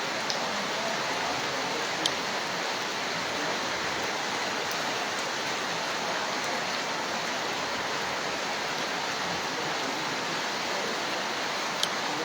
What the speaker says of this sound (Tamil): இந்த மழை தொடரும்.